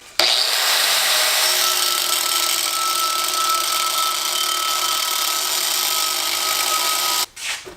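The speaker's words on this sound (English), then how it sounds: "we're just gonna cut the rest with the zip disc and then" A rotary tool with a cutoff disc whines steadily and loudly while cutting a part for an LS turbo kit for about seven seconds, then cuts out abruptly near the end.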